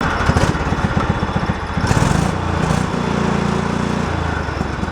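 A Craftsman lawn tractor engine runs loud and close, a steady throbbing chug that revs up slightly midway, then settles into an even, rumbling idle.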